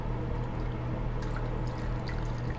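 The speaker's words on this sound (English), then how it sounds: "Beef broth, 1 whole 32-ounce container." Beef broth from a 32-ounce container pours into a slow cooker as birria is prepared, a steady liquid gush that runs evenly from start to finish, close by.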